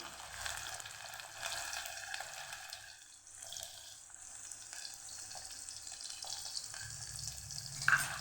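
Onions and whole spices frying in a pan for a Kathiyawadi white peas and potato curry make a soft, steady sizzle with faint crackle, continuous and low throughout, with no talking.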